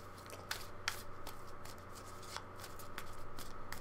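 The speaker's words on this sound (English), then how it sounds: "Give it one more good shuffle, and we'll cut three times" Tarot cards are shuffled by hand in a quiet room, making soft riffling and sliding with a few sharper snaps.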